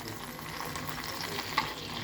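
Food fries in a pan over a gas stove flame, a steady soft sizzle and crackle held at low level close by, with one brief clink of stirring partway through and no voices.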